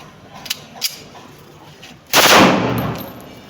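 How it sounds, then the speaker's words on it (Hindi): A newly made pistol is test fired. A single loud, sharp gunshot comes after a couple of quiet seconds with faint clicks, then trails off in a lingering echo. "इसके ऊपर अभी हम टेस्ट फायर करते हैं"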